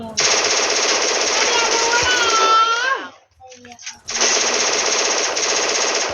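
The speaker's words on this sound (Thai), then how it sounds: "ทอมสันยิงไกลยอมทอมสันยิงไกลยิงไกล" Thompson submachine gun fire in the mobile battle game Free Fire, a loud sustained burst of rapid automatic shots for about three seconds, a short pause, then another long burst, with a voice talking over the gunfire.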